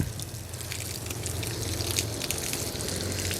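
Water pours and splashes steadily onto soil, a close, continuous hiss and patter with no voices.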